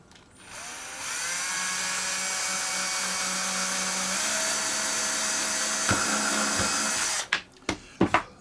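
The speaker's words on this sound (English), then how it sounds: "So the idea is you drill through" A high-pitched electric drill whines steadily for several seconds while drilling a hole through a model aircraft hinge, then stops, followed by a few sharp clicks and taps.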